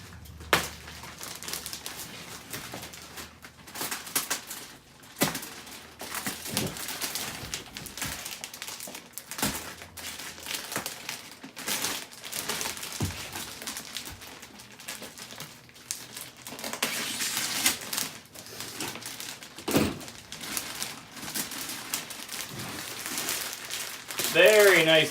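Crinkling and rustling of bubble wrap as packed wing parts of a VQ Warbirds Rare Bear Reno racer 30cc model airplane kit are unwrapped, steady crackly handling noise up close with scattered soft taps and bumps.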